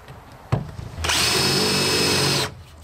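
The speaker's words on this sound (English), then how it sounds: "Drill the hole." Power drill boring a hole into the side of a utility trailer with a dull bit: one sharp knock, then a loud, steady whine of about a second and a half that stops abruptly.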